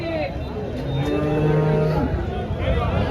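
A cow at a cattle market gives a long, low moo nearby, with faint chatter and outdoor bustle in the background.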